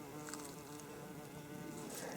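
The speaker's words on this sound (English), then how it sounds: "It's the bear bee, or bumblebee as we know him, going about his business of making a living in the forest." A bumblebee buzzes steadily and close by in a Japanese forest on a quiet spring hike, its drone continuous and full throughout with no voices.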